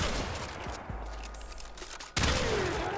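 Tigris Prime shotgun in the video game Warframe fires heavy, booming blasts up close, one around the middle and a louder one near the end, with a ringing tail after the final shot.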